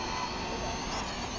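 A JXD 518W GPS drone climbs into the sky, its propellers giving a steady, close, buzzing whir that stays even throughout the short moment.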